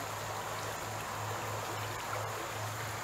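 Creek water flowing at the upper corner of a wooded property near Mills River, a steady close wash of broadband rushing with no pauses or voices.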